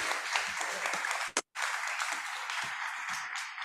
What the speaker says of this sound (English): please give some applause to us here